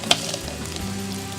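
Chili powder hitting a hot, sizzling pan of biryani masala for chicken dum biryani gives a steady close fry hiss with a brief sharp burst near the start, and no voices.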